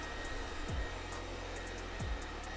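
A Roidmi Eve Plus robot vacuum cleaner runs with a steady, even whir, moving in a zigzag cleaning pattern, with two brief low thumps as it turns or bumps along the floor.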